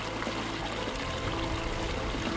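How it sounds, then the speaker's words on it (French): Hot spring water in Yellowstone bubbles and sloshes against rock, a dense, continuous rushing and pouring wash at moderate level, without voices. "Voilà une source d'eau chaude bouillonnante."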